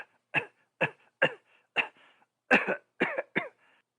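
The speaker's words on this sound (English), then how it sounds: "How long have you had that cough?" A man coughs repeatedly in a slow, irregular series of about eight harsh, hacking bursts, with short pauses between them and no talk.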